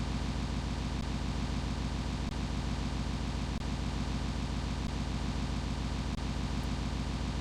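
A looping engine sound file plays in Scratch, a dense continuous rough drone with a rapid firing pulse and faint brief clicks where the loop restarts.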